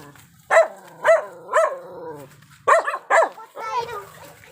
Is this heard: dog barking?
yes